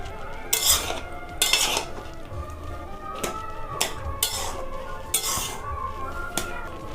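Taro leaves (kochu shak) cooking in a pan are stirred with a metal utensil, giving a series of sharp scraping clinks in irregular bursts over a low steady simmer, with no talk.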